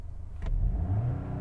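A VW Golf engine revs up sharply after a brief click and holds a rising, droning note against the soft limiter, loud and close, with no talk.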